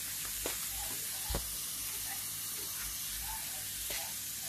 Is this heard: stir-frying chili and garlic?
yes